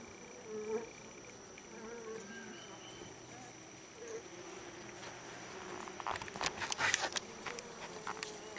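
Honey bees hum steadily in a low, continuous swarm in an open horizontal Langstroth hive, worked without smoke, with scattered clicks and light frame-handling noises growing busier toward the end.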